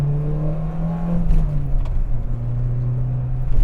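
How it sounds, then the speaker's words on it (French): The 1600 engine of a Volkswagen Golf MK1 GTI idling, then blipped, giving a smooth low hum that rises and falls in pitch with a short throaty rev, close by and fairly loud. "Là, le petit bruit GTI"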